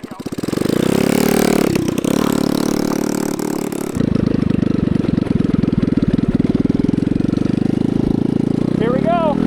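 A small go-kart engine, built from a toy F1 car, starts up and runs loud and close with a rough, buzzing chug that steadies into a throbbing idle and slight revving.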